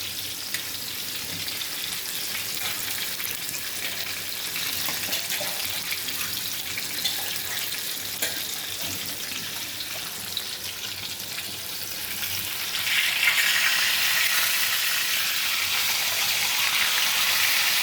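Fish frying in plenty of oil in an iron pan, a steady dense sizzle that grows louder and brighter toward the end, with faint watery clinks, heard alone without talk.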